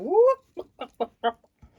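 A person imitating a chicken with a rising squawk followed by a string of short, evenly spaced clucks, close and fairly loud.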